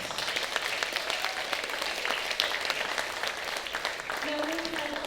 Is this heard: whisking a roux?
no